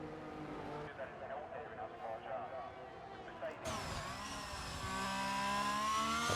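A Formula 1 car engine in F1 2022 at Baku, racing flat out through a lap, a steady high revving whine that climbs in pitch and grows louder toward the end, with commentators talking over it.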